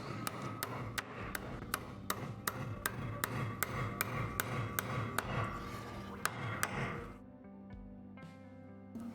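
Steady hammer strikes, roughly two per second, ring sharply as nails are driven into very hard, old hardwood, before the blows stop near the end.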